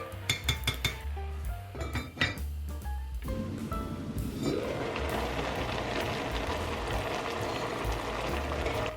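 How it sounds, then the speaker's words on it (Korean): A pot of vegetable soup with shiitake mushrooms, celery and tomato being covered: a few sharp metallic clinks of the lid and cookware, then a steady simmering hiss that carries on to the end. "표고버섯, 샐러리, 토마토까지 넣은 후에 채수가 나오도록 잠시 뚜껑 덮고 기다려줄게요"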